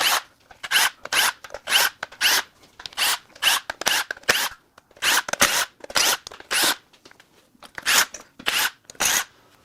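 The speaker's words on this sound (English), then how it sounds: "Next, we're going to unbolt the intake manifold." Ratchet work on the intake manifold bolts of a Ford 6.2L V8 engine: quick, raspy clicking bursts in a steady on-off rhythm, close and crisp, with short pauses between strokes.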